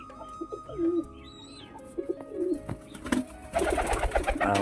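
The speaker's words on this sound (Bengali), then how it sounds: "পায়রাটা দেখো কোথায় চলে এসছে।" A pigeon coos in soft, repeated throaty phrases close by, joined by scattered chirps from other birds in a home loft.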